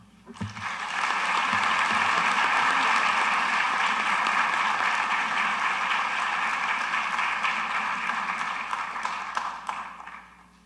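Sustained audience applause for speakers at a 2024 baccalaureate ceremony, a dense, loud wash of clapping that swells quickly, holds steady for several seconds and then tapers off.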